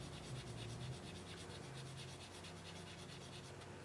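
Steady, close rubbing of a super fine sanding tool against a sculpture of a figure, a continuous dry scratchy texture lasting several seconds with no talking.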